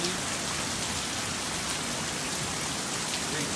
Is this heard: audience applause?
no